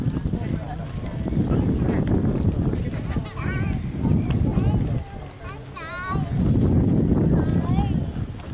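Horses walking along an arena rail, soft hoof thuds under crowd murmur and an announcer's voice giving instructions, with occasional whistle-like squeaks.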